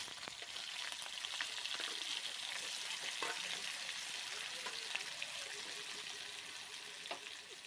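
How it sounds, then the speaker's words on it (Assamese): Paneer pieces fry in hot oil, a continuous quiet crackling sizzle with occasional small clicks of stirring, steady throughout. "পনীৰখিনি এতিয়া ৰঙচুৱা হোৱালৈকে ভালদৰে ভাজি ল'ম।"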